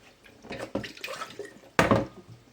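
Okra being rinsed under a running tap in a home kitchen, water splashing in uneven bursts with a stronger gush near the end, close and fairly loud with no talking.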